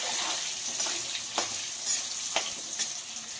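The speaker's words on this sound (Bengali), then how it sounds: "অল্প নুন আর হলুদ দিয়ে এটাকে লাল করে ভেজে নেব।" Frying in hot oil with salt and turmeric, a steady sizzling hiss broken by a few sharp stirring scrapes at close range.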